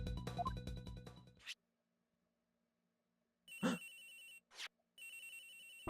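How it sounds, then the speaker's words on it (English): A telephone ringing in the Miles Edgeworth Investigations video game, electronic ring bursts separated by silences after a stretch of game music, fairly loud and alone. "Agent Hicks' phone! It's ringing from somewhere, sir!"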